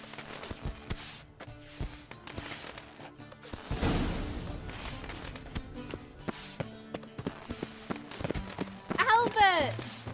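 Horse hooves clip-clopping in The Witcher 3, a series of distinct, rhythmic hoof strikes close by, with a louder thud midway and a brief whinny-like call near the end, under sparse talk.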